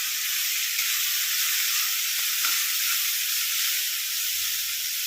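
Grated coconut and ivy gourd frying together in a pan for an Onam-style kovakka thoran, giving a steady, close, even sizzle with no pauses or voices.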